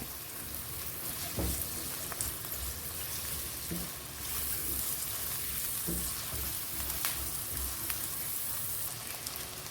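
Onions and garlic-ginger paste sautéing in a pan give a steady, close sizzle and crackle, with a few soft clinks of a spoon stirring through the fry.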